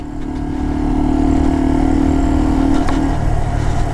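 Motorcycle engine droning steadily while riding on a mild day in Ohio, a loud, continuous mid-pitched hum with wind rush that rises slightly in the first second and holds steady, no talking.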